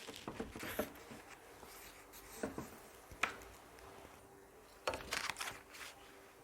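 A pencil draws on a birthday pop-up card in short scratchy strokes and taps, close and quiet, with pauses between clusters of marks.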